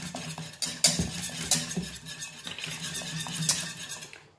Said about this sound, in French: Je mélange sans m'arrêter,